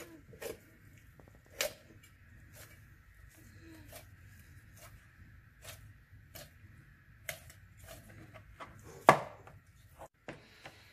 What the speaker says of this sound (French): après on le coupe, on coupe les ailes, le bout de l'aileron on l'enlève